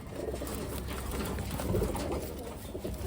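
Low, throaty pigeon coos repeat steadily through the clip, fairly close, over a constant background hiss with faint indistinct voices.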